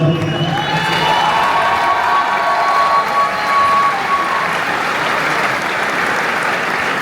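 Loud, sustained applause and cheering from a crowd at an MMA fight night in La Réunion, steady for the full stretch, with some voices and whoops mixed into the clapping.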